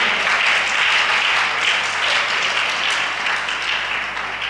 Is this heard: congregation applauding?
yes